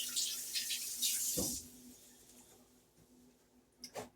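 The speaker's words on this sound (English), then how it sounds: "Let me rinse my hands off." Kitchen tap running as hands are rinsed under it, a faint close splashing and water hiss at first that fades, then a brief splash near the end, with no talk.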